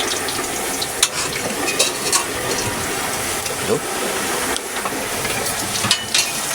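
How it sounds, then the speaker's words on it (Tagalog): Squash (kalabasa) frying in a pan gives a loud, steady sizzle with occasional utensil clinks and scrapes; a single spoken word breaks in briefly. "Nagpiprito pa ng kanyang kalabasa."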